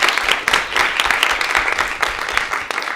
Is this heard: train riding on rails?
no